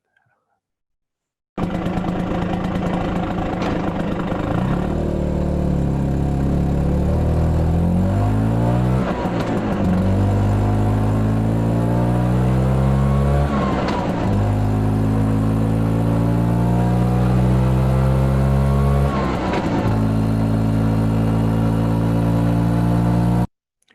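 A Lambretta motorbike engine revs up and down in several rising and falling surges, loud and close, over a steady running drone with no voices.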